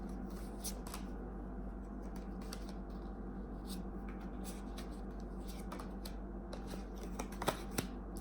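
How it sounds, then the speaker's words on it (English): Soft, steady shuffling of tarot cards close by, with faint papery flicks and a few sharper taps near the end. "Shuffle one more time. I'm sure I have these cards mixed up."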